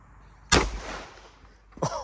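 A P80 pistol fires once at an outdoor shooting yard, a sharp, loud report that rings out and decays over about a second, followed by a fainter second burst near the end.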